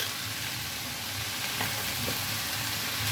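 Water spinach with small chopped potato pieces sizzles steadily in a pan with onion, a continuous broadband frying hiss with no voices.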